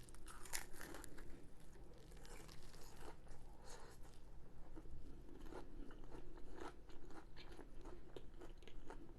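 Close, steady biting, crunching and chewing of hot samosas throughout a curry meal, with wet mouth sounds and crisp crackles repeating without pause.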